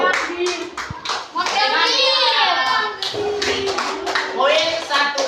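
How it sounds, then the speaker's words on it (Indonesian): Children clap in a madrasah classroom during a practice lesson, a steady burst of hand claps running throughout, mixed with excited young voices calling out over it. "Kasih tepuk tangannya dulu."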